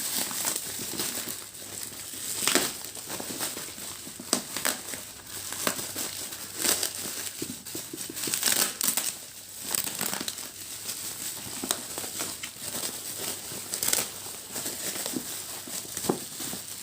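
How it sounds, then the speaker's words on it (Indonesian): Someone tears open a parcel holding a second-hand phone, wrapped in thick bubble wrap over a cardboard box. Close, continuous crinkling and ripping of plastic comes with sharp bursts of tearing, and no one speaks. "Di sini kita langsung belah saja. Langsung kita sobek."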